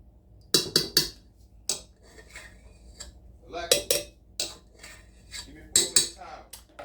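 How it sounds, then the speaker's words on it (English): A utensil stirs whipped shea butter in a bowl, making a series of sharp clinks and scrapes against the dish in irregular clusters, loud and close, with quiet gaps between. "Okay, I'll give this a good stir."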